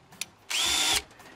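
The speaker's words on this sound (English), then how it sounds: "So what I'm gonna do is actually drill this in here like so." A power drill drives a self-drilling sheet metal screw into the mounting plate for a bathroom exhaust fan, one loud steady whine lasting about half a second after a faint click, with no talk.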